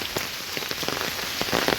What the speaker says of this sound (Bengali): তো দেখেন মুষলধারে আজকে বৃষ্টি, মুষলধারে বৃষ্টি।